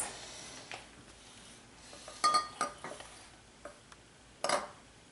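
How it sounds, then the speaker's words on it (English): Raw egg set into a small glass, a handful of faint, sharp glassy clinks and taps scattered across a quiet room, with no talking. "Place the egg into the glass."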